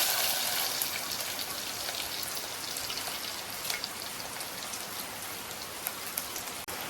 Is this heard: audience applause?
no